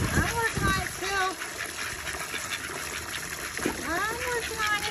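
Water is poured and splashes into a goose's bath outdoors on a cold, windy morning, a steady trickling and gushing that continues under someone talking.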